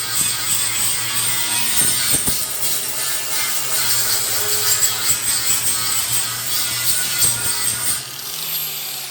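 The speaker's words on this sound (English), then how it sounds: "I'm going to use my flapper disc for this, so I get down to bare metal" A flap disc on an angle grinder strips paint down to bare metal during a McCormick W6 tractor restoration, giving a steady, loud, abrasive whine and grind that runs continuously for about eight seconds before easing off at the end.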